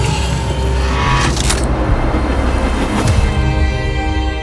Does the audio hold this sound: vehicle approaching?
yes